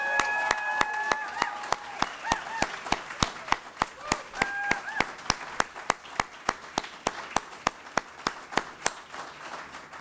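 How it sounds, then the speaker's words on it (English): Scattered clapping greets a NASDAQ opening bell ceremony, with sharp individual claps ringing out in a steady rhythm over a murmuring room and faint electronic tones. "I think that deserves a round of applause."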